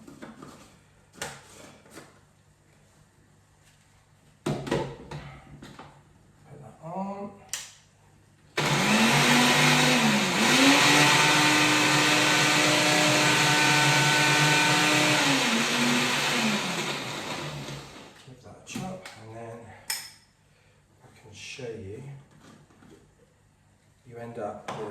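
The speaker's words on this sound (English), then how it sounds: "And then just a good old NutriBullet type blender." NutriBullet-type blender grinding laksa paste ingredients with lemongrass, a loud, steady high-pitched motor whine lasting about nine seconds, pitch dipping briefly as it loads, framed by quiet clatter and someone speaking before and after.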